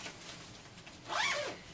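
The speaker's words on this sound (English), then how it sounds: "and then zip it up again." A luggage garment bag's zipper is pulled closed in one short, quick run, close by and fairly quiet over a faint background hum.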